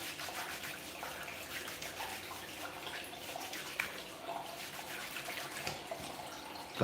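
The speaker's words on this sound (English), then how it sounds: "First thing you do is get your water running." Tap water runs steadily into a bathroom sink before a razor shave, a continuous close hiss and splash with no voices.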